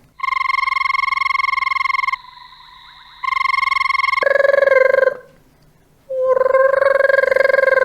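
Banded rubber frog calling: loud, sustained trilling calls, long ringing buzzes that sound almost like a telephone, repeated in bursts with brief pauses between.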